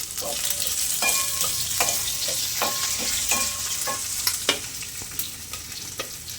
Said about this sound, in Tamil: வெங்காயம் போட்டுக்கலாம் கல்பாசி போட்டோன்னே இது கொஞ்சம் வதங்கட்டும்